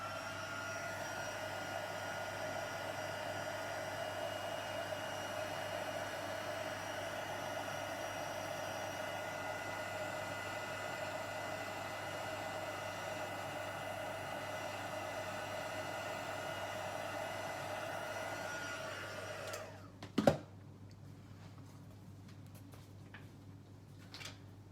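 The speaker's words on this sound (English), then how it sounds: "Heat that with the heat tool as well." A craft heat tool blowing hot air as a steady whirring hum, close and fairly quiet, running for about twenty seconds before switching off with a click into near silence.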